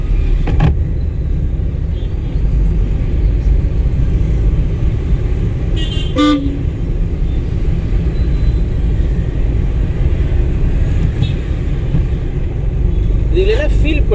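A car engine runs in third gear during a driving lesson, a loud, steady low rumble heard from inside the cabin throughout, with brief horn toots and a voice talking.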